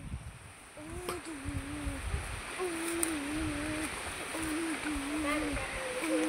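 A large, swollen stream rushes past in the rural countryside, a steady full-band roar of flowing water that runs throughout while someone talks over it.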